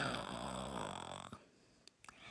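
A storyteller imitates snoring with a long, droning, voiced snore. Quiet follows, broken by a few small clicks and breaths.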